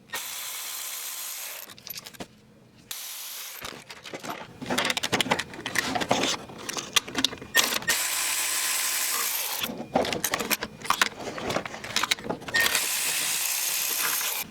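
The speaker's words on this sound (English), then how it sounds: "we're gonna start removing the bolts for the intake manifold" A ratchet clicks in repeated bursts while loosening E12 intake manifold bolts on a 2011-2016 Chevrolet Cruze 1.8L, close and fairly quiet, with short pauses between strokes.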